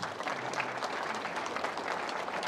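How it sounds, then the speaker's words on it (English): Audience applause for city staff at a Casa Grande, Arizona State of the City address, a steady dense wash of clapping from a crowd that holds evenly throughout. "Please give staff a round of applause for us."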